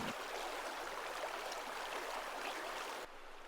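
The Metolius River runs past a riverside campsite near Camp Sherman with a steady, even rush of flowing water, close by and unbroken, dropping slightly in level near the end.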